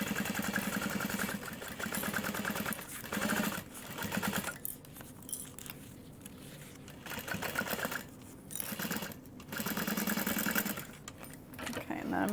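A sewing machine stitches the seam of a tote bag with a half-inch seam allowance. The steady mechanical whirring runs in bursts with short pauses, and a person talks over it.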